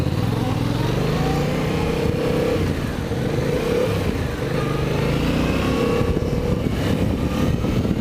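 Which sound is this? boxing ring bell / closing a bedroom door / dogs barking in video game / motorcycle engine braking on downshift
motorcycle engine braking on downshift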